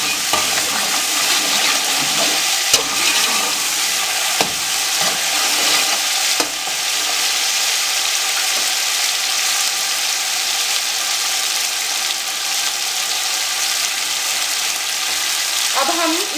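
Vegetables for a vegetable pulao frying and being stirred in a pan, a steady loud sizzle with occasional scraping clatters of the spoon, continuing without talk.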